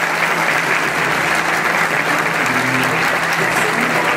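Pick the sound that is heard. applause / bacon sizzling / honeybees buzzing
applause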